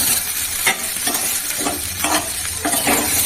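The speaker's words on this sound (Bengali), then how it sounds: "আলুটাকে সিদ্ধ করে একটু ভেজে নিই।" Boiled potatoes fry in a pan, giving a close, steady sizzle. Stirring scrapes and clinks recur every half second or so, and no voice is heard.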